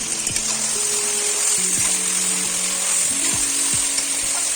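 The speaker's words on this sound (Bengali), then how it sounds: "তাই আমি মটনটা আগে ভেজে নেব, তারপরে মশলাটা দিয়ে ভাজবো, ভালো করে কষিয়ে নেব।" Mutton frying in a pan with a paste of ginger, garlic, chilli powder and cumin, a steady close sizzle broken by scraping stirs and clanks of the spoon against the pan.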